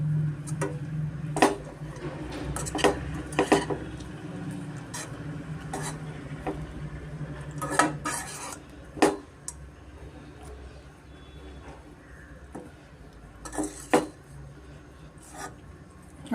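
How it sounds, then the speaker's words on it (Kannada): A spoon stirs salt through cooked rice for mango chitranna, a festive Ugadi dish, giving soft, irregular scraping and sharp clinks against the vessel, spaced through a low, steady room background. "ಉಪ್ಪು ಮಿಕ್ಸ್ ಮಾಡ್ತಾ ಇದ್ದೀನಿ"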